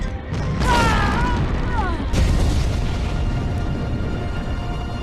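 Booming explosions and shotgun bursts from Medal of Honor: Underground on PS1 fill the clip, layered with a tonal musical swell and a dense, continuous low rumble throughout.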